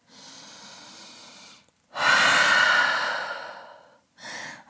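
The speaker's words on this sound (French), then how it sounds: "Grande respiration en chien tête en bas." Deep breathing during a yoga downward dog pose: a long, soft exhale, then a louder, fuller breath lasting about two seconds, followed by the start of another, close and clear with no talking.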